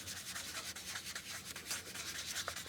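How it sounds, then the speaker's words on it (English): A paper blending stump rubbed against P400 grit sandpaper, a close, steady run of quick scratchy strokes with a soft rasping rhythm and no talking. "if you want, then use a finer grit sandpaper. This is a P400 grit"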